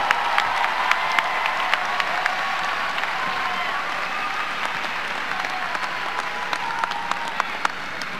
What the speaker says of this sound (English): Please join me in another FAMU round of applause for your commencement speaker for 2018.